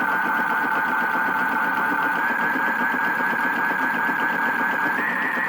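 A PlayGo toy washing machine spins with a steady, motorized whir and a slightly rising whine, running continuously and close by with no pauses or voices.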